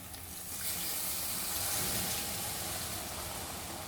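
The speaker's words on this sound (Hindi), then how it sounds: "अब इसमें डालूंगी थोड़ा सा पानी" A little water is poured into fish frying in an onion masala for Sindhi seyal fish, and it raises a steady close sizzling hiss that swells briefly midway and then settles back, with no voices.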